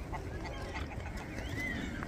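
Ducks and swans on water in Coventry, UK, with low honking and quacking calls mixed into a busy, steady outdoor background, no talking.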